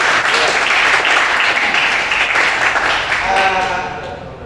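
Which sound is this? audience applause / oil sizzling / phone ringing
audience applause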